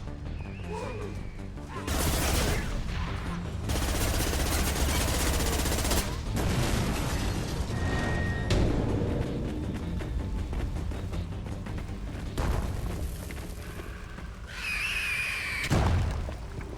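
Gunfire and exploding bombs in Mass Effect 2, with heavy bursts of shooting and loud crashing blasts. Sustained volleys are broken by short pauses, and a final sharp boom lands near the end.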